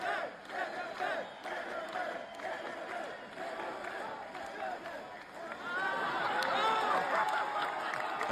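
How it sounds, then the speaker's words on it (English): A played-back recording of a crowd cheering and shouting at a hardcore show, a dense, continuous roar that swells louder in the last couple of seconds. "crowd's cheering"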